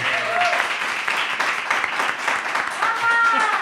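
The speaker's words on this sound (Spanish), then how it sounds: "Un aplauso para ella." A television studio audience applauds a guest arriving on a film-themed show, a lively burst of clapping that carries through with voices and chatter mixed in.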